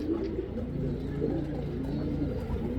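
Low, soft cooing of rare Sina pigeons repeating steadily over a continuous murmur of background noise.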